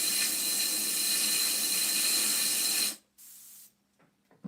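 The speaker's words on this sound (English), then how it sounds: "But I sprayed it into the water cleaning station" An airbrush sprays into a water cleaning station, giving a loud, steady hiss close by for about three seconds, then a short softer burst of spray and quiet.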